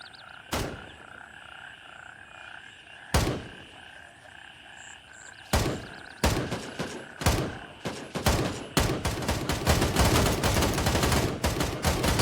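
Teammates firing guns in a tactical shooter video game: scattered single shots early on, then dense overlapping bursts of gunfire building toward the end, loud and close over a steady ambient hum.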